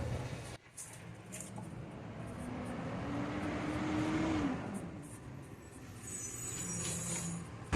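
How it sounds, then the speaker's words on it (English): An old garbage truck drives by: a broad engine rumble rises, peaks and fades away, with a whining tone in the middle and faint hissing near the end, with no talk. "Old garbage truck coming and clean up"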